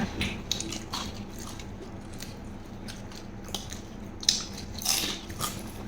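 Crunchy bites of crispy fried frogs eaten with spicy papaya salad and rice noodles, a series of close, crisp chewing crunches with a few louder snaps.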